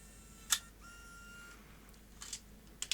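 Camcorder tape compartment ejecting, a sharp mechanical click followed by a short whirring motor tone, then a few more faint clicks, quiet and close.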